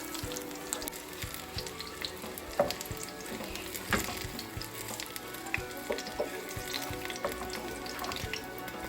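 Spinach and onion pakoras in gram flour batter frying in hot oil, a steady dense sizzle with scattered crackles and a few sharper pops and clinks throughout, close and continuous with no voices.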